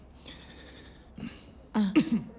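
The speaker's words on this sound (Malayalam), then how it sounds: "ചുമ." A few short coughs from a man with a sore throat at an informal music gathering just before a violin performance, a faint cough then two louder, rougher bursts close by.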